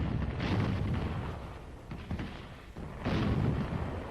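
A howitzer fires with a deep, rumbling boom, followed by a second heavy blast a few seconds later, both dense and low with a long rolling tail and no voices.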